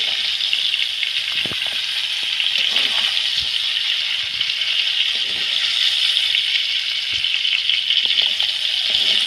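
Chilli and cumin paste fry in oil in a pan while cooking prawns with taro stolons, giving a steady, loud, close hiss with scattered small pops and rattles.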